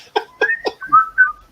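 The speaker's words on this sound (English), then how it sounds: "That whistling." A single person whistles the Andy Griffith Show theme tune in clear, close, melodic phrases, with short rising and falling notes and no talking.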